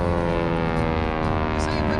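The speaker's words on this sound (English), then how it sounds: "T6, doing maneuvers." A Beechcraft T-6 performing stunt maneuvers at an airshow gives a continuous loud propeller-engine drone overhead, with a voice speaking beneath it.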